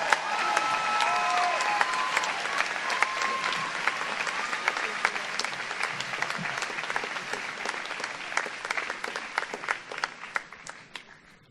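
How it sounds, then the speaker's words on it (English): Sustained applause from a large audience at a Princeton University Class Day ceremony, dense and steady before thinning toward the end, with a few faint voices and cheers mixed in. "Please join me in a warm round of applause for Margaret."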